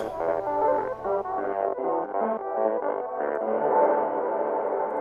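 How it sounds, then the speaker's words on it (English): A trombone line played through the Valhalla Delay plugin, distorted echoes trailing each note and blending into a smeared, repeating ambient wash. "Yeah, it's a great delay"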